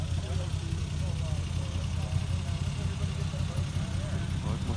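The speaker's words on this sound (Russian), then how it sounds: "Так, мотоциклы прибывают." Vintage motorcycles arriving at a vintage motorcycle festival in the USA, engines idling and running steadily at close range throughout, with people talking over them.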